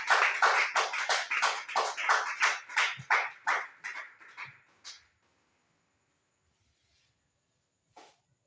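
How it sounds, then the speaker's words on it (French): Church congregation at an apostolic holiness church applauding together, a loud burst of rhythmic hand claps lasting about five seconds, then fading out into near silence. "Applaudis le Seigneur pour ta propre vie"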